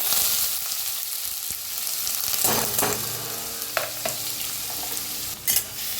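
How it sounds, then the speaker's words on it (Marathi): Finely chopped onion frying in a pan with cumin and a pinch of asafoetida: a continuous hiss of oil with a few stirring knocks and scrapes. "कांदा भाजून घेऊया"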